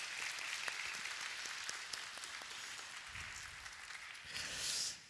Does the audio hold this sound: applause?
yes